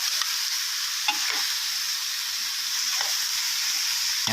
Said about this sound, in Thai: ผัดผัดคลุกเค้าสักพักหนึ่งนะครับ